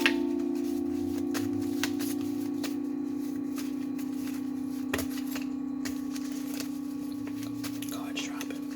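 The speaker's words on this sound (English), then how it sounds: "Cards dropping." Tarot cards are shuffled and dropped close up, with soft papery flicks and light taps over a steady low hum, while a faint voice murmurs quietly underneath.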